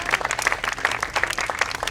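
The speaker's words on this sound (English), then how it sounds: "I want to give them another round of applause" A crowd at Little Island in New York applauds dancers after a performance, a lively spread of individual claps with distinct sharp hand strikes standing out nearby, heard without any talking.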